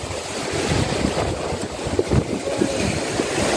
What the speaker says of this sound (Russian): вот такое сегодня у нас неспокойное море